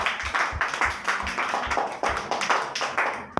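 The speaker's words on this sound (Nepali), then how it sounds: "सबैजनाले हाम्रो आइसाको लागि ताली बजाइदिने" A small group claps for a child's drawing of the god Ganesh, made from the letter H, in a quick, steady rhythm of close, distinct hand claps.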